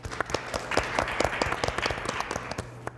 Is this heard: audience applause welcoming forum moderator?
yes